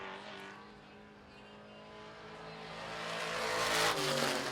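Street stock race cars at Lancaster Motorplex accelerate hard together off a corner, a dense layered engine roar that swells louder toward the end.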